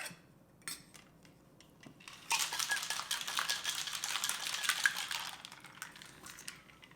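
A cocktail shaken with ice gives a fast, continuous rattle of cubes knocking inside the shaker, starting after a few light clinks and staying loud and close for several seconds.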